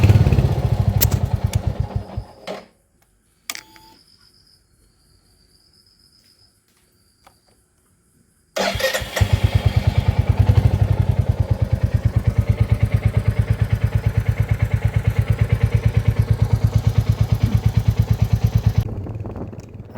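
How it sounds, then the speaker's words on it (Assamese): A Royal Enfield Hunter 350 in Tokyo black with its engine running: loud steady idle and revving thumps at first, a quiet gap, then a long even rapid engine rhythm close by, no talk. "মই লোৱা বাইকখন হাণ্টাৰ 350 টকিঅ' ব্লেক।"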